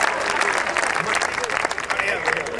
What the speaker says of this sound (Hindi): बहुत अच्छे, तालियां बजा दो